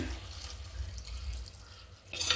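Water runs steadily into a pot of curry, a faint continuous trickle, then grows briefly louder near the end.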